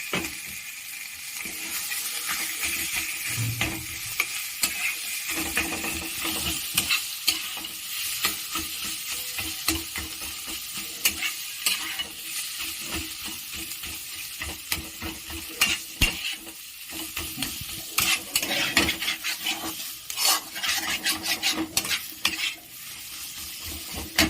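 Boiled potato frying with spices on a gas stove for egg cutlets, a steady sizzle under repeated scraping and clinking of a spoon or spatula against the pan, close and busy for about twenty-four seconds.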